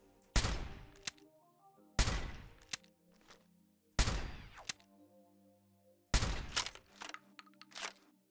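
Four loud shots from a modded suppressed revolver in Fallout 4, spaced about two seconds apart, each a sharp blast with a ringing tail over a low, steady game-music backdrop.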